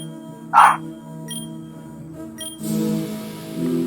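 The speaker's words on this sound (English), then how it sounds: "there's gonna be barking, no doubt, but there are puppies" Puppies in a room, with one short, sharp yip near the start, followed by quieter background noise and soft rustling.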